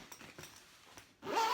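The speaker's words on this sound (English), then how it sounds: "And when you zip it up," Someone zips up a soft guitar gig bag in one quick rising zipper pull near the end, after a few faint rustles and handling sounds, close and clear with no talking.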